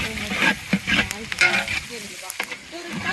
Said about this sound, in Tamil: ஏலக்காய், லவங்கம், வெங்காயம், பச்சை மிளகா முதல்ல நல்லா எண்ணெயில் வதங்குவோம்.